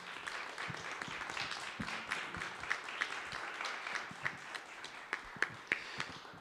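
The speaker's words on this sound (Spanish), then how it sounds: "Un aplauso, por favor." Audience applause inside the José Rubén Romero Theatre during a panel discussion, a steady patter of many hands clapping at moderate volume, with a few sharper individual claps standing out toward the end.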